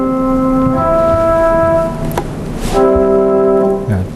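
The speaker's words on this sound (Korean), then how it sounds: "플루트로 한번 보겠습니다." A flute plays sustained, clear tones layered into chords to show harmony in a lecture on music and mathematics. The loud notes hold for a couple of seconds, pause briefly after a sharp click, then return.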